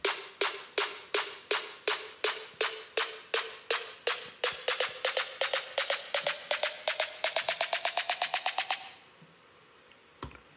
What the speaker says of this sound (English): then finally I added this build-up snare,